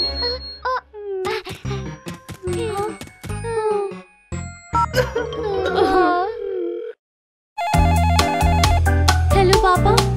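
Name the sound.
telephone ringing when calling dad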